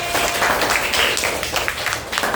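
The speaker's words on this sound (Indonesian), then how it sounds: "Ada tepuk tangan untuk kelas masing-masing" Students in a classroom applaud together, a brief burst of dense, lively clapping that stays loud and even for a couple of seconds.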